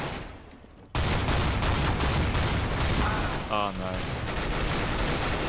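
The XM shotgun in Counter-Strike: Global Offensive fires in a burst of loud, dense blasts that begin abruptly and continue in quick succession, with a brief exclaimed remark from a player partway through.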